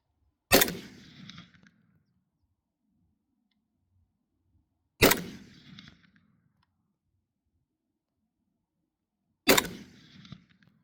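Three sharp rifle shots spaced about four and a half seconds apart ring out during standing marksmanship practice with an AK-47-type rifle, each crack followed by a short echo tail and silence between.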